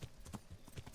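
Horse hooves clip-clop in the video game Kingdom Come Deliverance, a quick faint rhythm of muffled soft thuds.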